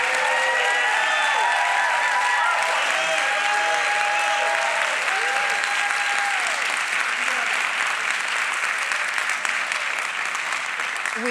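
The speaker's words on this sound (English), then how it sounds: "how about a round of applause for our mayoral candidates?" Sustained audience applause for mayoral candidates at a packed arts and culture forum in Houston, dense steady clapping with crowd noise throughout, loud and continuous for the whole stretch.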